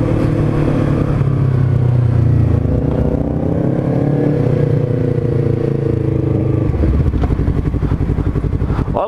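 A Yamaha MT-03 motorcycle accelerates hard from a standing start, its loud engine note rising close by and climbing through the revs, then a gear change and renewed acceleration toward the end, with no speech.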